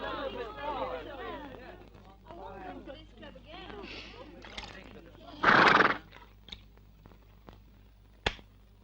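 A horse whinnies and stamps amid a noisy indoor confrontation, with a loud burst of neighing and a few sharp hoof knocks after scattered voices.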